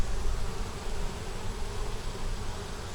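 Honeybees swarm thickly over an open hive that has recently swarmed, a loud, close, unbroken drone of buzzing wings with no pauses.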